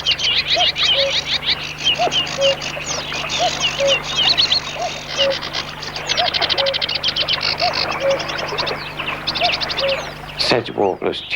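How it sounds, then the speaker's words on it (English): Sedge warblers chatter in a busy spring reedbed, a dense run of scratchy trills and chirps that carries on throughout. A steady, evenly spaced call repeats beneath them, and a louder, harsher burst closes the stretch. "Sedge warblers chatter noisily as they declare their territories."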